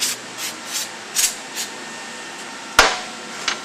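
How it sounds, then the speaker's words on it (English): Brake cleaner hisses from a spray can onto a clutch in several short, evenly spaced bursts, followed by a louder knock and a final brief spray, all close and with no voices. "Put a little brake cleaner on it."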